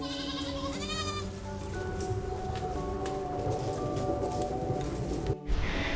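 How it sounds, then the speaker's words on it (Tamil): Several young goats bleat loudly and continuously, overlapping wavering cries close by, with a brief pause near the end before another call; adult goats stand nearby. "இங்கே பாருங்க கத்துது, பெரிய ஆடுகள்லாம் அங்கே நிற்குது."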